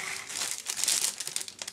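The plastic bag of a parcel of magazines crinkling and rustling as it is opened, close and busy with rapid irregular crackles, alone without talk.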